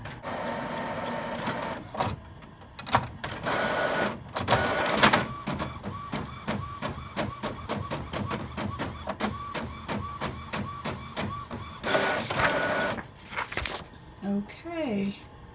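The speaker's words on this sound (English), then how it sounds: "So I'm gonna print a test page just to see what happens." Epson printer runs a test page: a series of rapid mechanical clicks and whirring print-head passes, with louder feed bursts near the start and end, fairly quiet and close.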